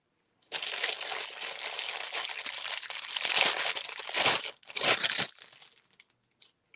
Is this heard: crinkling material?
yes